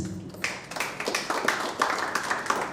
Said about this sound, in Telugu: ఒకసారి గట్టిగా చప్పట్లతో ఎవ్రీవన్ ప్లీజ్